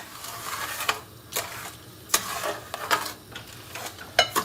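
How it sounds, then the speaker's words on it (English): A spoon stirs salt and sugar into coconut flakes in a pot, giving a few soft scraping strokes and light clinks against the pot, quiet and intermittent with no talking. "And of course, we're going to give that a bit of a stir"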